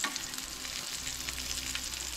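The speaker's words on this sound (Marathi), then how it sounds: "सो गॅस बारीक करून न्हय कटलेट आमची बरी फ्राय करूंक जाय." Mackerel cutlets fry in a pan over low gas, giving a steady, close sizzle with a dense crackling hiss throughout and no voices.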